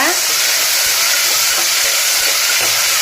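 Mustard seeds and chana dal frying in a hot pan, a loud, steady broadband sizzle with crackling that holds throughout, close and alone without any talk.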